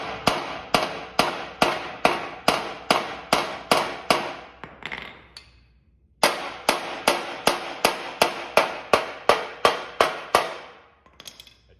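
Steel body hammers pound front end panels of a cabover truck during restoration bodywork, a steady run of loud ringing metallic blows about twice a second, a brief pause, then another equally regular burst of strikes.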